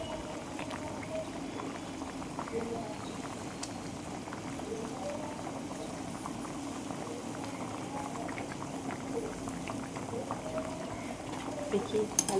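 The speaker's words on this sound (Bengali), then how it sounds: "এটা ফুটলে আমি বড়া দেবো।" A pot of salted water boils steadily on a stove, a continuous bubbling and rolling churn heard close, with a faint voice briefly in the background.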